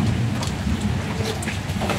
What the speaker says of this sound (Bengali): হঠাৎ করে বৃষ্টি আসছে